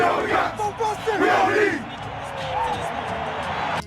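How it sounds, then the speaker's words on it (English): A crowd cheering before a Super Bowl win, loud whoops and yells rising together at first, then settling into a steady, rowdy roar with voices mixed throughout. "there was one cheer that seemed to rise above the rest"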